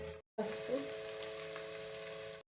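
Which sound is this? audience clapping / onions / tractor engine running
onions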